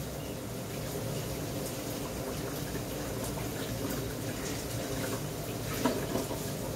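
Tamarind water is poured into a pot of garlic rasam, giving a continuous, fairly loud liquid splashing and gurgling that runs steadily throughout with no talking.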